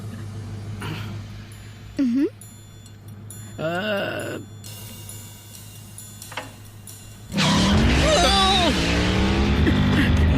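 Muscle car racing in an animated Transformers episode: a steady low engine drone with brief voice-like outbursts, then from about 7.5 seconds a loud surge of revving and screeching tires filling the rest.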